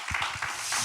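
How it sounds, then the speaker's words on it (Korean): A church congregation at a gathering gives a short, close burst of applause, a quick run of separate claps lasting under a second. "우리 박수 한번 먼저 보내드리겠습니다."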